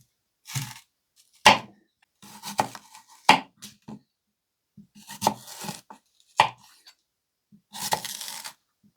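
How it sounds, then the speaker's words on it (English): A sharp kitchen knife from a Coquusaid block set slices through an apple, with distinct crisp cuts and taps against a cutting board coming in irregular bursts, close and clear, with no voices. "let's slice up this apple"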